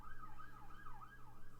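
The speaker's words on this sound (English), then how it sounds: "there's the police siren if you can hear" A police siren wails faintly in the distance, its pitch sweeping up and down in smooth repeating cycles over a steady low background hum, with no voices.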